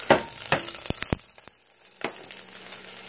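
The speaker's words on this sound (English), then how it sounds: "So I got a hot pan going, just about a tablespoon of oil, and I threw in my ginger and my lemongrass for the aroma." Ginger and lemongrass hit about a tablespoon of hot oil in a pan, giving a few sharp crackling bursts and a soft ongoing sizzle, close and fairly loud with no talking.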